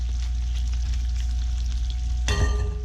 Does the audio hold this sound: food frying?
yes